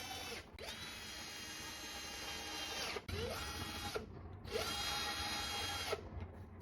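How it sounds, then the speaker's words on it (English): A power drill drives screws into the wooden frame of a dog porch potty deck, whirring in three sustained bursts with brief pauses between, loud and close. "Then I use some screws around the deck to fix it to the wood structure."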